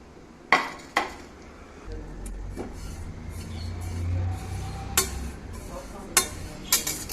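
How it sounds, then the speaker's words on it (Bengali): Ajwain seeds dry-roast in an oil-free pan while being stirred, giving a few sharp metallic clinks and scrapes of the utensil against the pan over a low, steady background rumble, close by with no voices. "শুকনো খোলায় ভেজে নেব জোয়ানগুলো"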